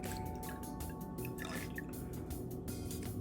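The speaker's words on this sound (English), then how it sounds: "Go ahead and pour that in there" Cognac pours steadily into a cup for a few seconds, a continuous close trickle with faint dripping, no voices over it.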